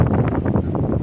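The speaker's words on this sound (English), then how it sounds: "pretty windy here" Wind buffets a microphone outdoors, a low rumbling gusty roar that fluctuates in strong, uneven pulses over the whole short stretch, close and steady.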